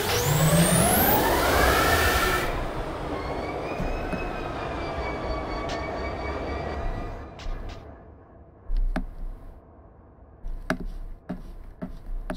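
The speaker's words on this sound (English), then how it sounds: "So these are just AI trains, really." AI-driven trains in a railroad simulator game: a loud rushing rumble of a passing train with rising whining tones in the first seconds, fading to a quieter rolling hum with scattered sharp clanks and knocks of wheels and couplings.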